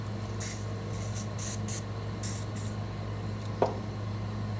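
A can of WD-40 lubricant sprays in several short hissing bursts at close range, with a faint clack partway through and no talking.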